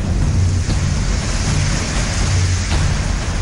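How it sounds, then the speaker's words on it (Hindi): Heavy monsoon rain falls over Rudraprayag in northern India, a loud, unbroken roar of rushing water with a low rumble beneath and no voices. "रुद्रप्रयाग के आसमान पर बादलों ने बसेरा बनाया और खूब बरसे"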